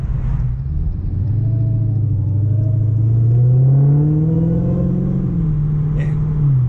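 A 2018 Dodge Demon accelerating hard from a standstill, a deep rumbling engine roar that rises steadily in pitch as it pulls up to speed, loud and close with a faint whine on top.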